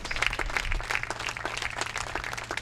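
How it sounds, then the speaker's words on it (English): A crowd at a baseball awards night applauds steadily, dense overlapping claps filling the whole stretch at moderate loudness. "Let's give him another round of applause."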